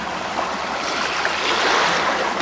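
Deep water at a Baltic Sea harbour rushes and swirls in a strong current, a steady broad wash with no voices.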